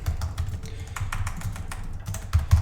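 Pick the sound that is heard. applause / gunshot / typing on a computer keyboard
typing on a computer keyboard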